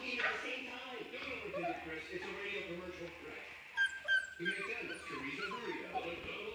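Woobie puppies whimper and let out high yips, a soft, busy chorus of small voices up close with occasional sharper squeaks, outside on wet grass after rain.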